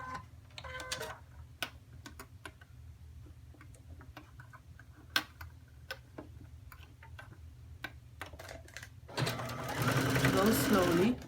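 A sewing machine stitches a V-neck seam in short, steady bursts of rapid ticking, close and moderately loud, with a longer run of continuous stitching near the end.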